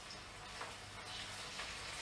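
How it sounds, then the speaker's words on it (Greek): Steady sizzling of potatoes frying in hot oil, a continuous crackling hiss with no talking. "Φέρνω τις πατάτες μου. Και τις τηγανίζω."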